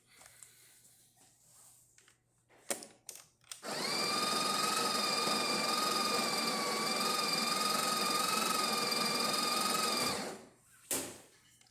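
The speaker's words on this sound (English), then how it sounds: "Let's go ahead and test it and make a espresso shot on it." A Breville Barista Express espresso machine, just serviced with a new gasket, pulls a test shot. A few clicks come first, then a loud, steady pump drone runs for about six seconds and stops abruptly. No one speaks.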